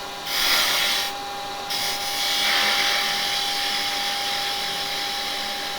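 A 9mm round gouge cuts wood spinning on a woodturning lathe, giving a hissing, scraping rasp in bursts over the lathe's steady motor hum, close and fairly quiet.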